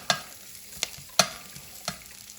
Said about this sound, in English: We will saute this just until the garlic and the thyme become aromatic